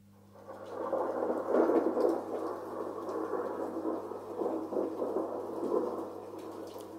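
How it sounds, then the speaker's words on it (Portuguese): Thunder rumbles low and heavy, swelling after about a second and rolling on in a long, fairly loud grumble that fades slowly, with no talk over it. "Parece que temos aqui relâmpagos ou trovoada."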